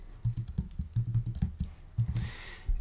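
Someone types on a computer keyboard, a close run of quick irregular key clicks in short bursts with brief pauses, ending in a soft rustle.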